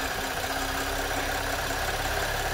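Supercharged V6 of a 2013 Audi A6 idling, a steady, even mechanical hum with a faint whine, close by and without talk.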